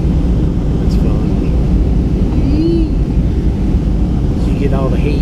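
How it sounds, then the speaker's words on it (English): Steady roaring airplane cabin noise while landing in Denver, the plane buffeted by heat rising off the ground, a constant loud rumble heard throughout. "You get all the heat rising off the ground right now. It's buffeting the airplane."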